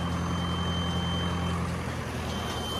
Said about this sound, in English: So you can hear that beeping. That's the baler controller. That's telling me that I have a full bale.